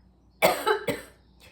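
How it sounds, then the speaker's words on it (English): Two sharp, close coughs in quick succession, followed by a faint breathy trailing sound. "I just had a horrible cough attack."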